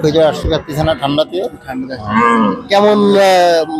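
Cattle moo at Betaga cattle market, a cold-weather market of cattle raised for Qurbani, with a loud drawn-out low toward the end among close conversation between people.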